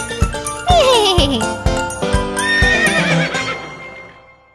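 Horse whinnies in a children's song, several rising-and-falling neighs over a bright tinkling melody with repeated clip-clop beats, loud and close, fading out at the end.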